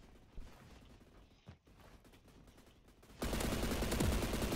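Gunfire in the Roblox shooter Energy Assault, a sudden loud burst of shots cutting in near the end after quieter game ambience, sustained and dense like rapid fire.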